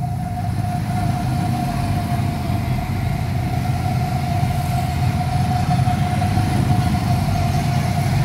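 Go-kart engines drone steadily through a race, a continuous buzzing hum that stays even and fairly close with no pauses.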